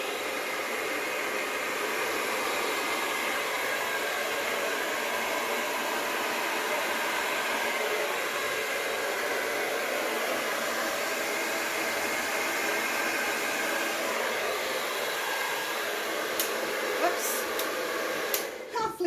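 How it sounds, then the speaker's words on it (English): A hair dryer on its low, cold setting blows with a steady, even broadband whoosh, continuous and fairly close, with a few brief clicks near the end. "I've got my hairdryer set on low and I've got it set on cold"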